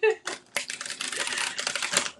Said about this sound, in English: this deck is just so schmexy to shuffle.